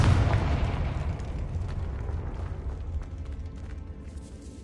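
A Confringo fire spell bursts in an explosion in the video game Hogwarts Legacy, one loud boom at the start that rumbles and fades out over several seconds inside a catacomb.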